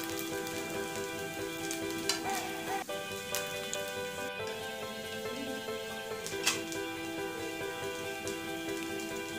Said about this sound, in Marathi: थोडं अजून त्याला 2 मिनिटं शिजून देऊ आपण।